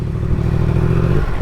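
A 2020 Yamaha MT-10 motorcycle engine runs loud and close for a brief moment, a steady rumbling growl with some clatter and no one talking.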